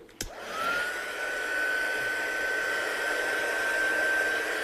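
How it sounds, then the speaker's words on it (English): A heat gun blasts a card to dry the ink on it, switching on with a click and then holding a steady, loud, close whooshing roar with a thin whine for several seconds, with no talking. "I'll just give that a quick blast off now with this heat gun"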